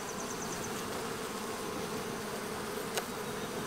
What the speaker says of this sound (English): I'm seeing a reluctance of bees to leave these frames over here.